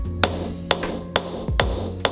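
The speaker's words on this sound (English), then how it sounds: "you can grab a dowel rod and hammer your nut in further" Hammer blows drive a nut into a hole with a wooden dowel rod on a bow tillering gizmo; five sharp, evenly spaced taps, close and moderately loud, with no talk.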